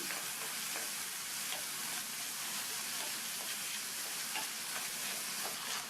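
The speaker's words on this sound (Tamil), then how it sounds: "இந்த வெங்காயத்தை நல்லா வதக்கிக்கணும்" Finely chopped onions sautéing in a pan, a dense, even hiss of frying heard close and steady for the whole stretch, with faint periodic stirring taps underneath.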